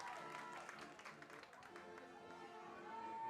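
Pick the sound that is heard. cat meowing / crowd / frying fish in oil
crowd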